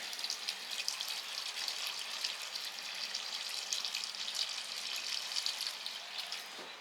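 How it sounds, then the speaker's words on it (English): Cold water runs steadily from a tap into a pan, a continuous hissing splash at moderate volume with no pauses. "Let's get some more cold water in there."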